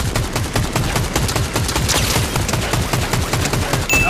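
Rapid automatic gunfire in Fortnite Battle Royale, with loud, close bursts repeating in a fast, even rhythm across the whole stretch and no voice over it.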